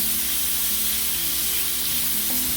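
Pork bacon frying in a pan with no added fat, a steady close sizzle and crackle running throughout with no talk.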